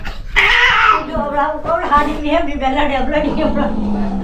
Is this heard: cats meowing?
yes